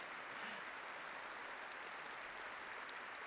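Fans at a retiring jockey's farewell ceremony applaud warmly, a faint, steady wash of many hands clapping from a distance with no break.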